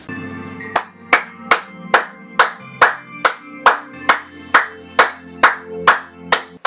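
Steady rhythmic hand clapping, about a dozen evenly spaced, loud, close claps keeping time with no talk over them.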